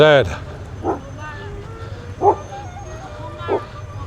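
Dogs near the port of Durres give a few short barks and yips at a distance, spaced out over several seconds, with a clear near bark at the start and low background hum throughout.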